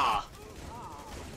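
A shotgun fires in Rainbow Six Siege Terrorist Hunt with a sharp blast at the start, followed by a quieter rumbling tail and faint background game noise.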